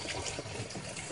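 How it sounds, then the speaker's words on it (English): Hands are rinsed under running water from a tap, a short, soft, steady splashing hiss heard close up with no talking. "I'm going to wash my hand because I have got to get underneath my vase"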